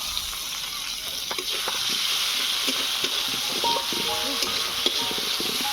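Chopped onion frying in a pan gives a steady, loud hiss and crackle, with occasional stirring noises against the metal.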